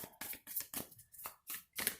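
Tarot cards being shuffled by hand in a quiet room, with about eight crisp riffling bursts in a steady rhythm separated by brief silences.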